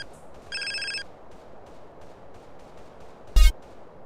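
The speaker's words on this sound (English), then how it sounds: "The phone rang again while I was recording" A telephone rings in the video game GTA San Andreas, one short electronic ring burst, then a loud sharp thump a few seconds later over a low steady in-game background.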